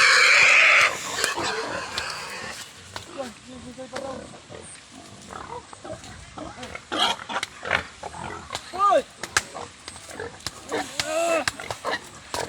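Pigs being moved toward a truck grunt, oink and squeal repeatedly in irregular bursts, close and loud, with people talking over and between the animal calls.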